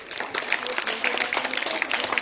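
An audience at a school science exhibition award ceremony claps, a brisk irregular patter of many hands that stays fairly loud throughout, with a voice faintly underneath.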